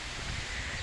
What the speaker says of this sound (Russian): И вот ветер сильный такой.